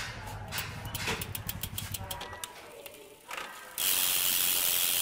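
A freewheel ratchet in the hub of a full-carbon Knight road bicycle clicks rapidly and evenly, close and loud, then slows and stops before a broad hiss takes over.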